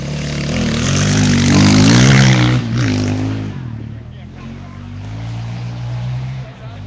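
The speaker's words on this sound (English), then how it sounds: "bikes are looking good through Sand Trap Hairpin" Rally motorcycles at the Sandblast 2013 sand trap hairpin stage rev their engines and pull through the corner nearby, a loud rising engine roar that swells and then fades, with faint voices in the background.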